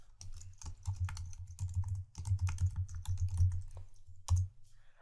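Rapid keystrokes on a computer keyboard while entering text into a form field, close and steady with a few heavier taps, no voices.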